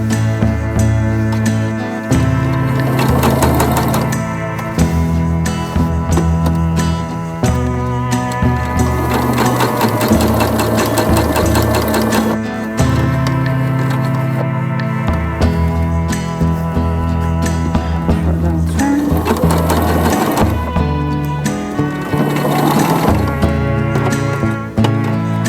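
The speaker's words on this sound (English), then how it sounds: "I'm picking up the presser foot and trying to ease out any fullness that I can while I can." Fast, loud stitching from a sewing machine working on a peacock-themed quilt, running in long steady bursts with brief pauses and thunks as the presser foot is lifted and the fabric is repositioned.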